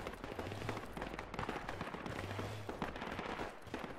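Support gunner's machine gun firing in the military shooter game Project Reality, steady dense bursts of automatic fire close by with a sustained rattling texture throughout.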